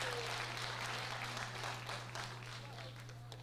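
Steady applause from an audience at a high school senior awards ceremony fills the whole stretch, dense and even, slowly tapering off toward the end over a low hum.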